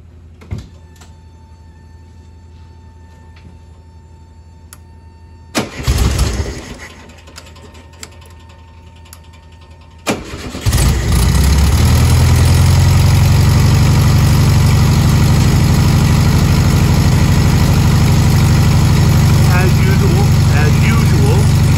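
A Volkswagen engine cranks briefly, falls silent, then cranks again and catches, settling into a loud, steady idle that runs on close by for over ten seconds.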